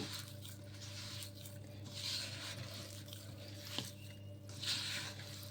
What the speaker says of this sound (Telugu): ఇలా చేత్తో ఈ విధంగా బాగా ప్రెస్ చేసేసుకుంటూ పిండి మొత్తాన్ని కలిపేసుకోవాలి